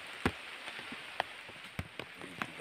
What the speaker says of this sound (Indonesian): sekarang ini lagi hujan lebat guys